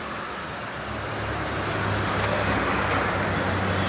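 Road traffic stuck in a complete jam on a Pune street, a steady broadband rumble of idling and creeping cars and heavier vehicles that grows slightly louder partway through, with no voices.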